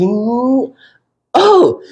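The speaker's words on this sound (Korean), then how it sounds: "굉장히 중요한 남자의 기침" A man gives a deliberate, throaty cough-like clearing, then a second gruff vocal burst after a short pause, close and loud.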